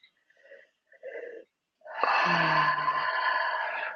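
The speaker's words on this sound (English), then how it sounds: "Nice, slow, deep breath." A slow deep breath, drawn in and let out with a long airy, slightly wheezy exhale lasting a couple of seconds after a few soft shorter breaths, close and quiet.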